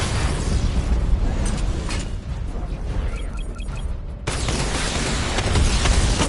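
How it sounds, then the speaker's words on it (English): Missile barrage fired in a video game, a dense volley of loud explosions and bursting pops rolling together, easing briefly before a fresh wall of blasts hits and keeps rumbling. "Missile barrage level 2 ready."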